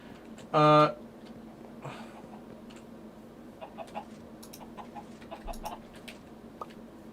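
Blocky Minecraft chickens, modded with Pam's Harvest Craft, cluck in one short loud burst near the start, followed by faint scattered clucks and ticks over a low hum while someone talks.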